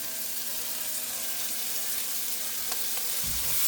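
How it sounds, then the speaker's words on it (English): Minced garlic frying in a pan for a Caribbean chicken and squash stew, giving a steady close broadband sizzle with a few soft clicks and a low stir or pan bump near the end. "And let that fry a little bit."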